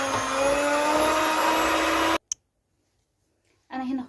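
An electric mixer whirs loudly and steadily, beating butter with egg and milk for butter cookie dough, then cuts off abruptly into near silence before starting up again briefly at the end.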